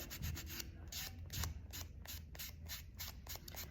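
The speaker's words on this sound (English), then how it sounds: "I'm gonna really buff that." A fingernail is buffed with a nail buffer after an OPI dip powder application, giving quick, soft rhythmic rubbing strokes, close but faint, with no voices.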